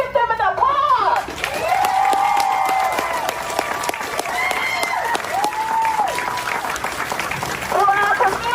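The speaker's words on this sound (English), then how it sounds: "Let's give them an applause." Community crowd applauding after an announcement, a sustained wash of clapping and light cheering under a voice speaking over it at moderate loudness.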